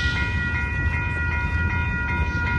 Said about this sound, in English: we have a train coming here